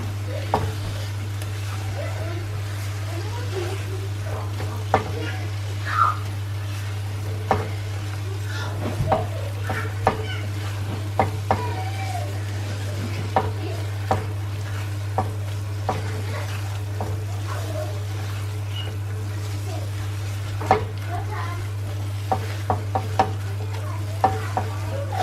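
Coriander garnish being folded into a simmering egg korma, with gentle spoon scrapes and clicks against the pot over a soft sizzle and a steady low hum.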